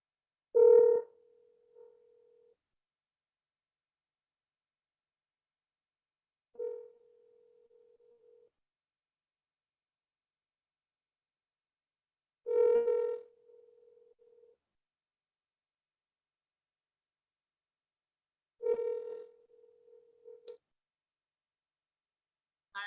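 A telephone line gives repeated short tones during a call-back attempt where the caller is not getting through, four separate tone bursts spaced about six seconds apart with near silence between them.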